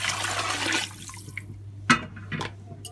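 Water pours into a large cooking pot for Memni pulao, a brief rushing splash lasting under a second, followed by quiet with a few faint clinks and drips.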